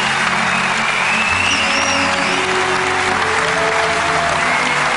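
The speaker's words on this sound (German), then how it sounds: "Ich nehme den Applaus hier im Publikum" A studio audience claps loudly and densely throughout, a steady wash of applause with faint crowd murmur and no clear speech.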